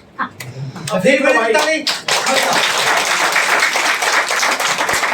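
Clapping from an audience at a Golden Nepal marketing event in Butwal: someone talks over a few sharp, separate claps, then dense applause takes over and holds steady and loud.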